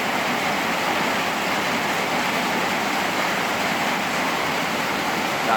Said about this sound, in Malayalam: നല്ല സ്ട്രോങ് ആയിട്ട് മഴ പെയ്യുന്നുണ്ട്.